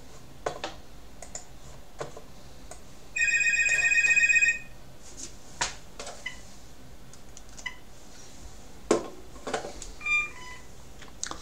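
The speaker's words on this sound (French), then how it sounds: "Et désolé pour le spam téléphonique." A telephone rings once from a spam call, a short electronic trill lasting about a second, set among scattered keyboard typing and mouse clicks in a quiet room with no voices.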